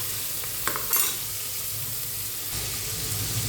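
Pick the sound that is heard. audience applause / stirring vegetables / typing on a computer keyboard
stirring vegetables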